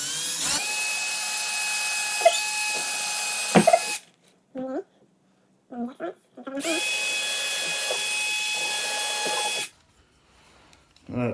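A power drill whines at high speed into a skirting board in two long bursts of several seconds each, loud and close, separated by short clicks, trigger blips and handling noises.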